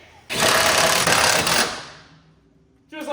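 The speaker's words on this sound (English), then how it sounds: "We drilled another hole." Power drill boring a hole through a Mazda Miata body panel for a self-tapping screw, a steady loud whine lasting over a second before winding down, with faint noise at the end.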